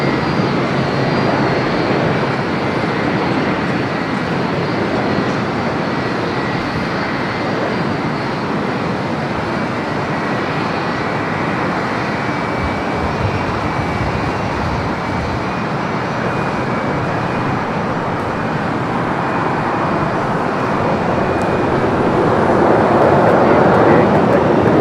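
A landing airliner arriving at Los Angeles LAX airport gives a loud, steady broadband engine roar that holds for the whole stretch and swells slightly near the end, with no voices over it.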